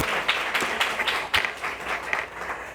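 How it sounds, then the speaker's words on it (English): Audience applause at a domestic partner violence conference, a steady wash of hand clapping from a crowd with a few sharper claps standing out, moderately loud and without talk. "Let's give her another hand clap."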